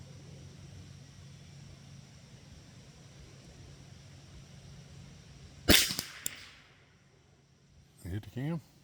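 A Ruger 10-22 rifle in .22 LR fires a single sharp crack that decays quickly, heard over a low steady background hum, followed about two seconds later by a brief rustling handling noise.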